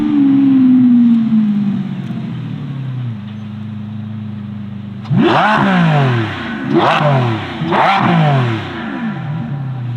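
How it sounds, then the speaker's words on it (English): A Novitec-tuned Lamborghini Revuelto's flap exhaust rumbles at idle, then blips loudly three times in quick succession, each rev snarling up and dropping back. "if you want it to be angry, you can. And then it'll sound something like this."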